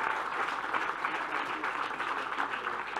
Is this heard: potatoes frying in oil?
no